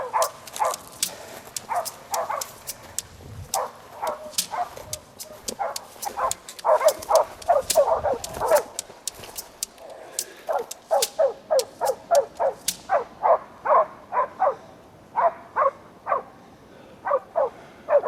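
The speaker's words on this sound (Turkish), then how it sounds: "Dünyanın en güzel seslerinden birisi yataktaki köpeğin sesi." Several hunting dogs bay at a wild boar, barking continuously in rapid, overlapping bursts, some yips and higher barks mixed in, steady and fairly close, with no talking.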